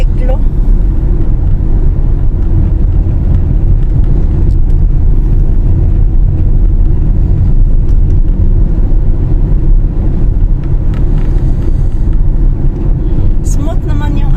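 A car cruises steadily along a road on a long drive, giving a constant low rumble of engine and road noise with wind buffeting, loud and unbroken from start to finish, while a person talks over it.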